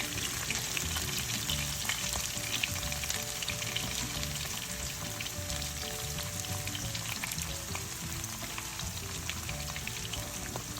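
Onion and carrots sizzle steadily in a hot pan, a dense, even crackle of frying that runs throughout without pause, close and moderately loud, with no voices over it.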